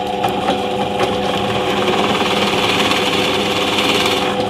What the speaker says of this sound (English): I need to create an indent for the bolt to go into, and I do that with a 20mm Forstner bit